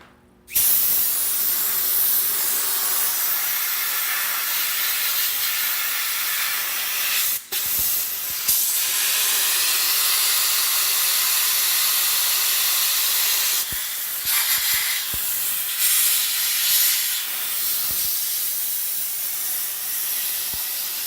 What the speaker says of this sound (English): I'll hose it down a little bit with some air